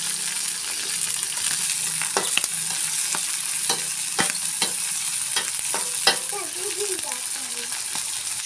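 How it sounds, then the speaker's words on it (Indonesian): Bird's eye chilies fry in hot oil for sambal, cooked briefly so they stay green. A steady close sizzle runs throughout, with scattered sharp pops and the clink of a stirring utensil. A voice speaks briefly near the end. "Ini gorengnya nanti nggak terlalu lama ya, di tengah matang biar warnanya tetap hijau."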